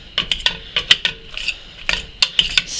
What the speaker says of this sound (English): stir and mash